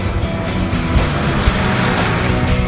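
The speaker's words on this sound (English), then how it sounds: "Floored from a stop, and the front tires struggle for grip." A Volkswagen Passat VR6 with DSG twin-clutch transmission is floored from a stop, its engine roaring loudly and rising under hard acceleration for a few seconds.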